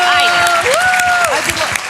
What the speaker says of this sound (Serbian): Ajmo aplauz